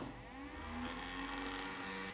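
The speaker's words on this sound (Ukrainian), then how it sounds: "Вентилятори будуть включені, бо це вже майже номінальний струм." Cooling fans whirring steadily inside a 2500 W electronic load running near its rated current, a continuous broadband whoosh with a faint tonal hum, rising slightly partway through.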